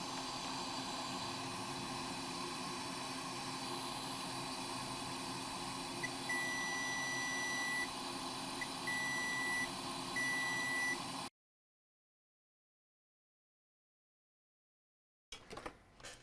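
A multimeter in diode mode gives faint, steady tones while probing a MOSFET on a shorted Dell Alienware m17 R4 laptop board: one longer beep and a few short ones over a low hiss, followed by silence.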